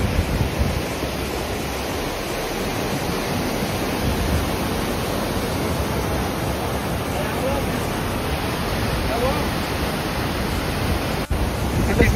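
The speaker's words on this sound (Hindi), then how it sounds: "यहाँ रिवर बह रही है, वो आप देखोगे तो ऐसे लगेगा बहुत स्पीड से बह रही है" A fast-flowing river near Sonmarg in Kashmir rushes by close at hand, a loud, dense, unbroken roar of churning water that holds steady throughout.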